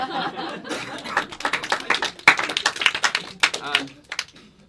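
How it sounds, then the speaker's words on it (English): An audience at an Edinburgh 2015 stage show breaks into applause, irregular claps mixed with chuckles and laughter, fairly near and lively before fading out. "I don't know if that applause is actually for the material"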